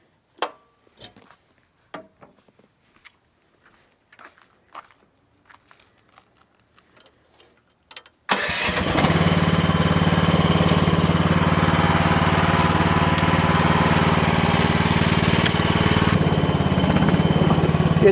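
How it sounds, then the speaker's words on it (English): Engine of an H15R Chinese mini excavator turns over and catches after several faint clicks, then settles into a loud, steady idle that runs on close by and alone. "I only have the engine idling, but it feels like it's got a little bit more speed than my Cardiwell ever did."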